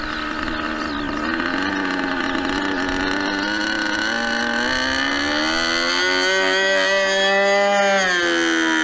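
An RC model plane's motor holds a steady, high, buzzing whine for the whole stretch, its pitch slowly rising and dipping as it flies, with no voices.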